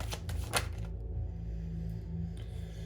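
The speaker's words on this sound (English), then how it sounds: "Let's pull our tarot cards and let's round this off." Tarot cards shuffled in quick, papery riffles, with a few louder flurries at the start before settling into a softer, steady rustle over a low background hum.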